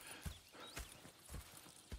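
Horses clip-clopping in the Red Dead Redemption 2 video game at a camp readying for a ride to town: irregular hoof thuds on dirt at a slow walking pace, set against soft ambient background noise.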